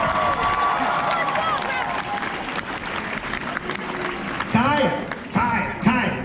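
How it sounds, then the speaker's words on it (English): An audience at SeaWorld Orlando applauds a team returning to their seats after a game-show style challenge: sustained, dense clapping with some cheering, under a host's amplified voice. "all this applause is for you"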